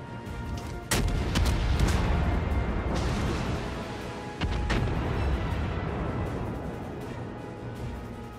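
Heavy battleship guns firing in a naval video game, two loud booming salvos about three seconds apart, each followed by a long rumbling tail over constant low engine drone.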